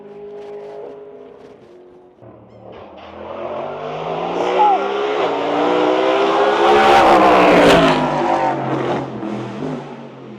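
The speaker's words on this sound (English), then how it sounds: "Here comes the supercar." A Supercars race car at the Bathurst 12 Hour in 2024 rises from a low engine drone into a loud, climbing rev as it closes in and sweeps past, its engine note swelling and then easing off.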